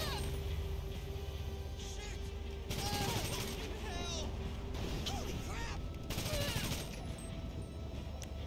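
Bursts of .50 cal machine gun fire in GTA Online, two dense rattling volleys over steady game noise and a low hum, with a few scattered shots in between.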